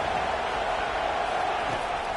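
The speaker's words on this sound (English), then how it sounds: "Decibels rising as the crowd gets behind this defense on third down" Crowd noise in a South Carolina college football video game: a dense, steady stadium roar swells behind the defense on third down, continuous and fairly loud with no distinct breaks.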